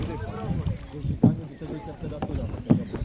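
Kayak paddling on the Warta river in July, with soft rhythmic paddle strokes and water splashes, two sharper splashes standing out, under cheerful family chatter close by.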